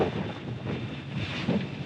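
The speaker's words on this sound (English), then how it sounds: "So we're having 27 knots of wind now." Strong wind of about 27 knots in rain while a Nautitech 46 catamaran docks at a marina in Cadiz, a loud, continuous roaring rush with gusty swells and no voices.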